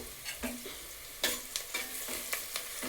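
Onions frying in a pan for tomato rice, cooked until reddish; a low steady sizzle with intermittent scraping stirs of a spatula against the pan, close and quiet, with no talking.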